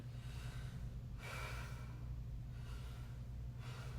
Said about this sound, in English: go ahead, breathe in and breathe out